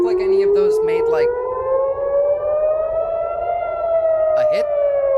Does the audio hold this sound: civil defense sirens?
yes